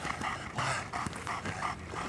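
A protection-trained dog barks and yips in quick repeated bursts during bite work, the dog close and loud, with a few whimpering notes between barks.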